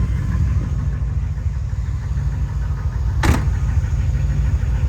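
A 1978 Chevrolet C3 Corvette Pace Car V8 rumbles at a steady low idle close by, with one brief sharp mechanical click partway through and no talking.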